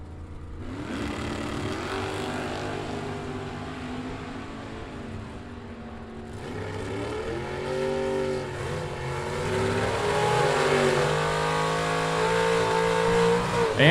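A 1969 Chevrolet Nova at a bracket drag race roars down the strip, its engine loud and rising in pitch through the gears, then swelling stronger toward the end with no talk over it.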